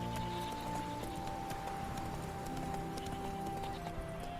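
Roach the horse gallops in Witcher 3, a steady run of faint hoofbeats beneath a constant bed of game ambience and low music.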